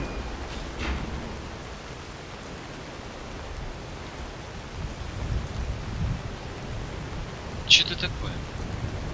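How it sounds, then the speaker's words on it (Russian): Rain pours through a roof in Skyrim, a steady, soft wash of hiss with faint low rumbling, while a voice speaks briefly near the start and a sharp tap sounds near the end. "какого хрена дождь идет через крышу?"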